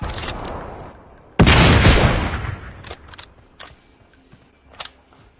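Gunfire in the mobile video game PUBG Mobile, with a loud burst of shots followed by scattered fainter single reports, heard up close among quiet gaps.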